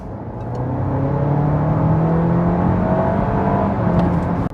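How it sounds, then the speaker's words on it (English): A Honda ZR-V at full throttle, with 320 horsepower and 500 Nm of torque, its engine and exhaust building in a steady rising drone heard from inside the cabin, loud and continuous. "If I press the pedal like full throttle"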